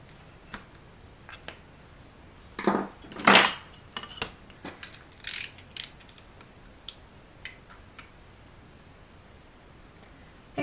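A blade slices through the center of a paper folio layer, making a few short scratchy cuts and crisp rustles with quiet gaps between them, close and fairly soft, with no talking.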